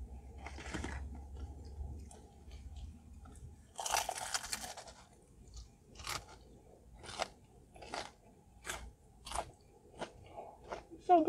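Crunchy Panda Express food, such as egg rolls, being chewed close up, a series of sharp crisp crunches in a steady rhythm with brief pauses between bites.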